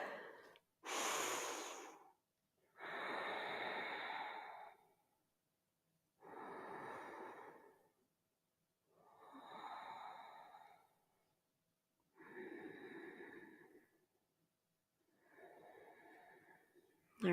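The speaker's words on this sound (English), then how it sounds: "Take 3 breaths." Slow, deep yoga breaths during an energizing morning practice, about six or seven long inhales and exhales in steady rhythm, close and clearly audible, with silent pauses between them.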